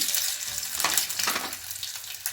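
Potatoes and cumin seeds with mustard seeds sizzle loudly in hot oil in a frying pan while vada pav filling is cooked, a dense steady hiss with a few stirring swells, no voices.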